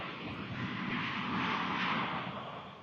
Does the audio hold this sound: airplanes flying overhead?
yes